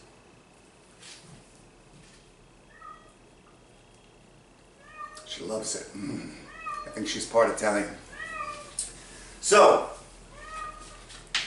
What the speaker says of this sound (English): That's my cat Zinc in the background.